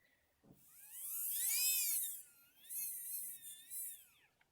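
A Tomix track cleaner's motor, converted to DCC, runs on a Bachmann DCC controller with a thin, high whine that rises and falls in pitch, fading briefly and surging back several times, with no talking.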